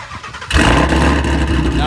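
A Ford Mustang V8 with full headers, H-pipe and stock mufflers cranks briefly, then bursts into a loud, close, rumbling idle that holds steady.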